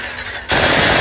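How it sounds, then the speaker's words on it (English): Rapid video game gunfire bursts in suddenly after a quieter moment, dense and loud like automatic weapon fire, with no talking during it. "Does this make the gunshots invisible?"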